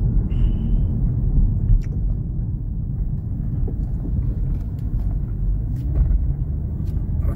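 A supercharged 3.0-litre engine in an Audi S5 Sportback runs steadily, a deep, continuous low rumble held at an even level with no distinct revving or gear changes.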